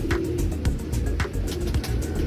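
Neel Dumba pigeons coo in repeated low, soft bursts against a steady busy background hum, with a few brief sharper noises scattered through.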